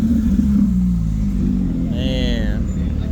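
A Porsche GT3 RS engine hums nearby under road noise at a cars and coffee meet, with a brief rising whine from a passing car as it goes by.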